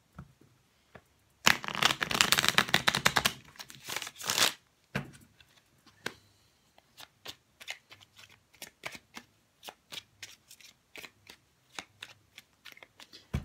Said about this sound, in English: I feel like I need to shuffle them a little bit more